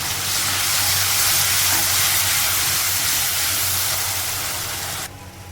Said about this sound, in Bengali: তো মশলাটাকে এভাবে কষানো হচ্ছে।